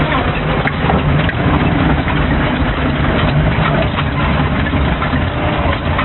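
A Jeep 4x4 crawling a dirt trail in low-range reduction, its engine droning loud and steady from inside the cabin with constant rumbling and jostling throughout.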